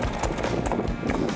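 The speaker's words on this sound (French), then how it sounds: "Et puis on fait trotter le cheval et on regarde comment il réagit." A gendarmerie horse trots, a steady rhythm of hoof clip-clops on hard ground over about a second and a half, with general background noise and possible faint voices.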